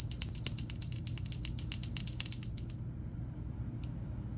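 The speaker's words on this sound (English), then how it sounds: "So I'm going to go ahead and ring my bell right now." A hand bell rung repeatedly in a quick, steady jingling run for about two and a half seconds, then a single faint final ring, close and bright with no talking.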